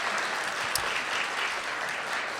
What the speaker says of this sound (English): a round of applause for Marty McNulty in that last show